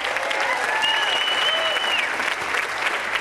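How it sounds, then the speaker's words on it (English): Wedding reception guests give the bride and groom a sustained round of applause, dense steady clapping throughout with a few whistles and cheers riding on top. "Let's have another round of applause for the bride and groom."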